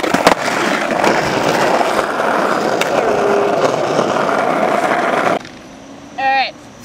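A skateboard rolls loud and close for about five seconds while the rider performs a backside 360 and revert. The wheel roar then cuts off abruptly, leaving quiet background and a brief voice.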